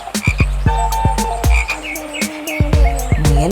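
A cartoon frog croaks repeatedly, with loud, close, rhythmic croaks coming in quick succession over a soft background and no talking.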